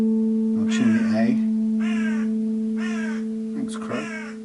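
A crow caws four times, harsh and fairly close: one longer call, two evenly spaced calls, then a quick final call, all over a steady low electric hum indoors.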